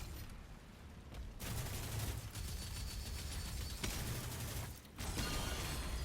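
Bursts of rapid gunfire from a chain gunner enemy in DOOM: The Dark Ages crackle over metallic mechanical clatter, with two brief pauses between sustained volleys.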